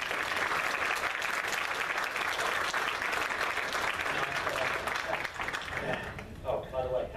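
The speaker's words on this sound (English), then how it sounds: "I would be remiss if we don't give a round of applause for the work of Darwin" A comic con audience at a Q&A panel bursts into sustained applause, a dense, loud wash of clapping that fades out near the end as a voice begins talking.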